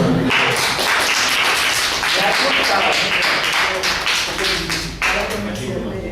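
Applause breaks out in a Spanish class for a student praised for her vocabulary and pronunciation: steady, fairly loud clapping from a small group, dense and continuous for several seconds, with voices murmuring beneath.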